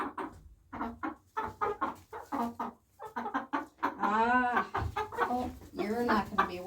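American Bresse chicken clucking and squawking close by while being handled, a run of rapid clucks building into drawn-out, agitated cries.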